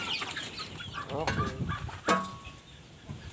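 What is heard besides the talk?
hens clucking at feeding time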